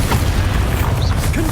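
A Bombarda blasting spell from Hogwarts Legacy lands as a deep, loud, rumbling boom with crackling debris, one short close explosion filling the whole moment.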